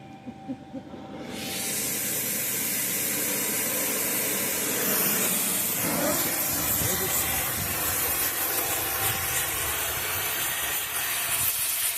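Oxy-fuel torch igniting with a sudden onset, then a loud, steady hissing roar as it preheats cast steel for welding, continuous and close throughout.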